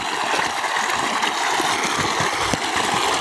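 Water from a single well motor pump gushing into a rice field channel, a steady broadband rush of flowing water with faint engine hum beneath.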